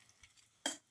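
A single quick scrape of a utensil through a chicken casserole with tomato pieces in a pan, one brief close stir after near silence.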